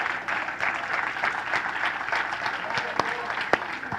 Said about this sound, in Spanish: ¿Puedes darle ese aplauso más fuerte al Señor?